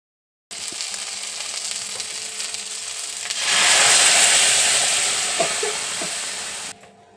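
Food frying in a pan as a mother cooks in a home kitchen, a steady sizzle that swells into a louder, brighter hiss midway, with light stirring clicks, then drops off abruptly at the end.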